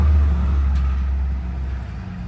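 A 2001 Mazda B3000 pickup engine revving, a loud, close, low rumbling drone that holds steady and eases slightly toward the end.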